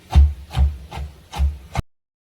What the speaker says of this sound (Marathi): आता मिरच्या आणि टोमॅटो सर्व एकत्र आपण वाटून घेऊ.